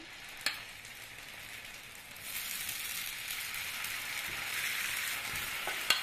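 Spoonfuls of fritter batter drop into hot oil in a pan, and the sizzle swells from a quiet crackle to a louder, steady fry after a couple of seconds, marked by a few sharp spoon taps.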